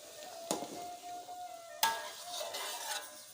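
Jengkol beans being stirred into simmering coconut milk for Minang sambalado tanak, with a couple of sharp utensil clinks against the pot over a soft, steady bubbling hiss.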